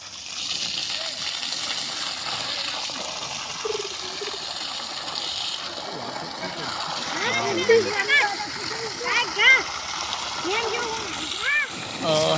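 Well water running into a temple garden, a steady low splashing and trickling flow heard under nearby talk, with a few louder splashes partway through.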